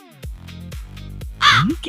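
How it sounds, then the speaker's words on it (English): A crow caws several times in a short series of harsh, rasping calls, close and clear, the last call the loudest. "It's a crow!"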